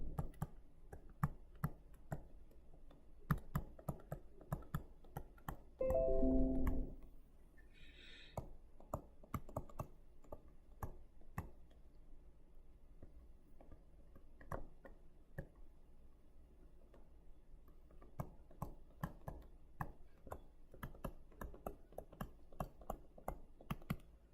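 Quick bursts of typing on a computer keyboard, a steady run of close, crisp key clicks with brief pauses, alone and fairly quiet.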